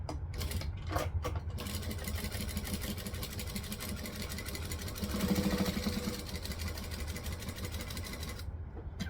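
A sewing machine runs steadily while stitching and back-stitching along the inner edge of a clear jelly vinyl pouch, giving a continuous close mechanical hum with brief pauses near the start and a fuller stretch in the middle.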